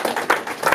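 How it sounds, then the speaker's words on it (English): An audience clapping for a speaker at an official launch event, a short burst of uneven applause with irregular hand claps, fairly close and moderately loud. "Clap for him."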